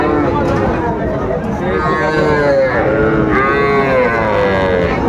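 A bull calf and other cattle moo repeatedly at a busy rural cattle market, with long loud calls overlapping one another under constant chatter of people nearby.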